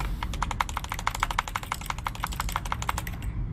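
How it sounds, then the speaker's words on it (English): Rapid, steady typing on a computer keyboard in The Stanley Parable video game, a close run of crisp key clicks continuing for several seconds and then stopping, with a low background hum. "It sounds like I'm typing"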